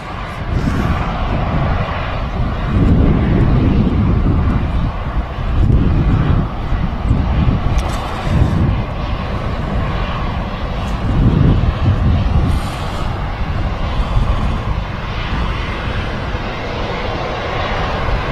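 An EasyJet airliner passes at Manchester Airport, a loud, sustained jet roar that swells and fades in waves, with wind buffeting the microphone.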